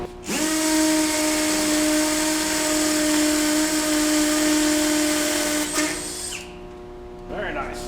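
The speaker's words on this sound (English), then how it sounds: "Try the masonry bit, and we got that in hammer mode." A Sundpey cordless brushless hammer drill with a masonry bit whines loudly at a steady pitch with a rapid rattling hammer action, running for about six seconds before winding down.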